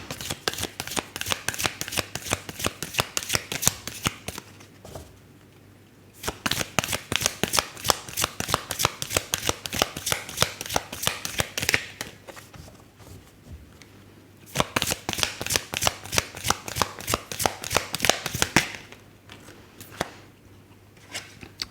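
A deck of tarot cards being shuffled in three long bursts of rapid riffling clicks, close and fairly loud, separated by short pauses and with no talking.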